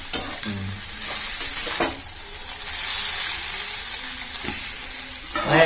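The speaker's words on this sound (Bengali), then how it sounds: "আমার কানের পর্দা ফেটে গেল, কানের ধারে এসে ঝুড়ি ভাজা" Jhuri bhaja, a crispy fried snack, sizzles loudly in hot oil nearby, with a continuous hiss punctuated by a few sharp clatters of stirring at the start and end.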